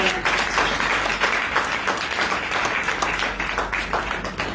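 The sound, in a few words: congregation clapping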